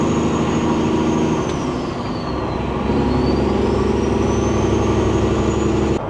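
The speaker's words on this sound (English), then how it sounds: "Big truck coming through" A big truck drives near Rocheport, Missouri, its engine droning loud and steady throughout while a whistling air-brake tone dips and rises midway, with no voices heard.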